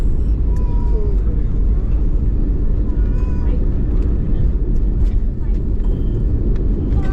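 A passenger airliner taxis after landing at New Delhi, with a loud, steady low engine rumble filling the whole stretch while a voice talks over it.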